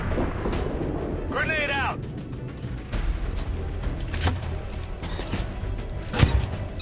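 A grenade goes off in the video game XCOM 2 as a series of heavy booming blasts and crashes. A descending whistle comes first, and a voice talks over it.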